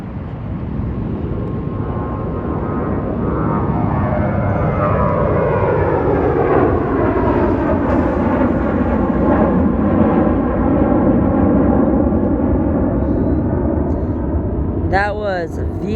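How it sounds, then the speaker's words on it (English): A Southwest Airlines Boeing 737 MAX 8 jet at Las Vegas airport roars steadily and loudly throughout, its engine tone sweeping down in pitch as it passes, with a brief sharp sound near the end. "That was Southwest Airlines heading to Chicago Midway on a brand new"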